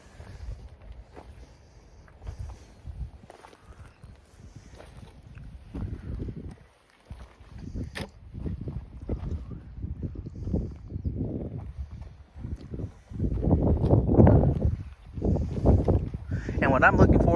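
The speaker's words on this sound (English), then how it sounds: "The wind has picked up" Gusty wind blowing outdoors during rockhounding, rumbling low against the microphone in bursts that grow stronger toward the end, under intermittent talk.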